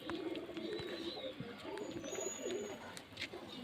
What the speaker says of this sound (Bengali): কিছু নাহলে ষাট সত্তরটা পায়রা আছে